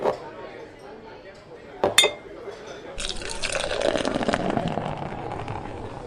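Beer pours into a pint glass at a bar in the Pub Sim video game: a sharp glass clink, then a steady rushing pour that fills and deepens, with brief talk at the start.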